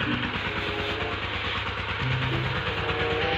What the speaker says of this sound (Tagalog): So, ito po yung bomba.